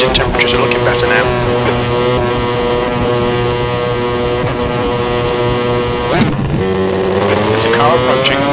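Close and loud, the 250cc superkart's engine holds a steady, harmonic-rich drone at high revs at the Brazil track in Automobilista 2, with one brief dip and recovery as the throttle lifts late on.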